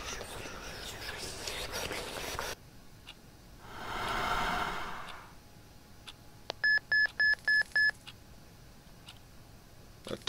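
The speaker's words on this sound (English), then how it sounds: "A text message." Phone text message notification in a video game: a quick run of five bright electronic beeps, clear and alone after a soft whooshing swell.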